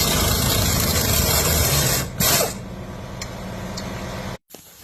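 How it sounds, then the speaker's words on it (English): A Capri half-inch drive swivel-head impact wrench with an angled flex head runs in a steady, loud, buzzing rattle for about four seconds, with a brief louder burst midway, then cuts off abruptly. "Check out the Capri half-inch drive swivel impact"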